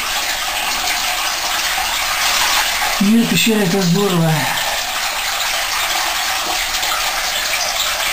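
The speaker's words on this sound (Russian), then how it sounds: "Слушай, как журчит в пещере вода." Water gurgles and trickles inside the Gobzaņu cliff cave as a steady loud wash, while a person talks briefly over it.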